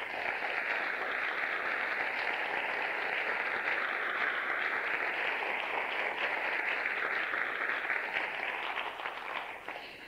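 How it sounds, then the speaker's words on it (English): Lecture audience at a Seton Lecture applauding as Sister Joan Chittister is introduced, a steady wash of many hands clapping for about ten seconds before tapering off at the end, moderately distant. "it is lovely to have somebody applaud before you speak"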